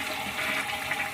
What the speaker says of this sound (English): When you pull the flush, it raises up the tube and it takes out the water